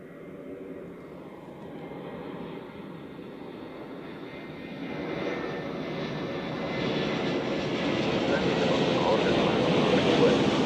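A fixed-wing airplane passes near Zurich Airport, its engine roar a steady broadband rumble that slowly swells louder toward the end, heard alone without talk.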